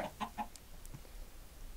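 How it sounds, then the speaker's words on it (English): A Minecraft chicken gives a few quick clucks at the start, then the game goes quiet with faint background noise. "Come here, chicken."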